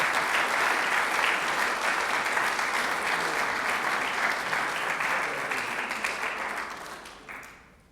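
A large audience at a space university opening ceremony applauds to welcome Dr. Robert Thirsk, a full, loud, sustained wash of clapping that fades out over the last second.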